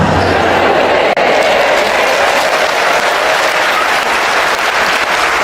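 Sustained applause from a church audience at a sermon by a Catholic priest, loud and dense throughout with a faint voice threaded underneath.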